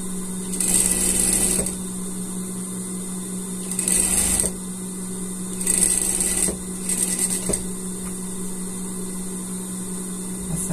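Sewing machine stitching elastic onto a unicorn pajama sleeve, a steady mechanical hum with rapid needle chatter rising in several short bursts and pausing between them, close and clear.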